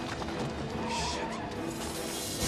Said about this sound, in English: A crazy car chase ensues, and John and Simon almost die multiple time